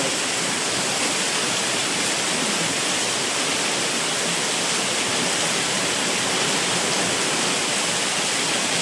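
Heavy night rain pours onto a balcony in Mumbai, a dense, steady roar of water that stays loud and even from start to finish with no voices.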